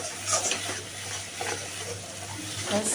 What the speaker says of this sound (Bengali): এবার এটা আমি একটু কড়াইতে নেড়ে নিচ্ছি